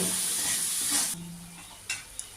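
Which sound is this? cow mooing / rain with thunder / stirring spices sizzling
stirring spices sizzling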